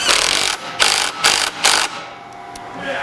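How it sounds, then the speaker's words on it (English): A 3/8-inch impact wrench runs a 15 mm bolt into a Ski-Doo 850 Summit snowmobile, firing four rapid, loud hammering bursts close by before a quieter tail. "we're going to run that in with the 3/8 impact"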